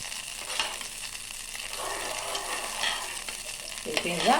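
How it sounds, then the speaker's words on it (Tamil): Moong dal frying in ghee for Ashoka halwa, with a soft steady sizzle under repeated scraping stirs of a spoon in the pan, close and fairly quiet. "அசோகா அல்வா நெய்யிலே நல்லா விதங்கிருச்சு நல்லா வெந்து வந்துடுச்சு"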